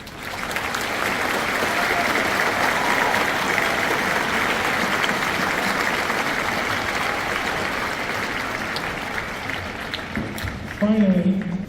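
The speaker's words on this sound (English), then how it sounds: "Can you please join me in applause and recognition to all of these people?" Sustained applause from a large audience fills a high school graduation ceremony, steady and dense for about ten seconds before tapering, with a brief voice at the end.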